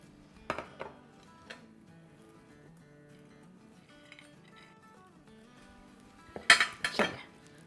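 Spoon scraping and clinking against a pot of sweet rice with chicken and nuts (murgh mutanjan), a few sparse taps early on and a louder cluster of metallic knocks near the end, otherwise quiet.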